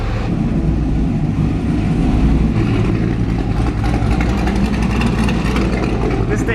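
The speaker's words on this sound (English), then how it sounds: "This thing sounds insane. It's such a tasteful cam." A cammed truck engine, with cylinder deactivation deleted, idles loud and close with a deep, choppy, lumpy rumble that holds steady throughout.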